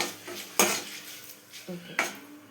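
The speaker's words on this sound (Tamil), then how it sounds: "மசாலா கொஞ்சம் நல்லா வதக்கி விட்டுக்கலாம்." A metal spoon stirs masala for a potato fry in a pan, giving a few soft scrapes and two sharp clanks against the metal in a quiet kitchen.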